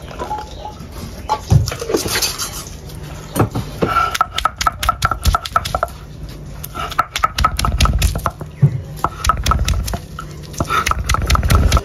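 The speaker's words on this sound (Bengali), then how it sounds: "এখন রসুন বেটে নিব" Garlic being ground on a grinding stone for loitta fish paturi, a steady run of loud, rhythmic scraping and thudding strokes close by, continuing throughout with brief pauses.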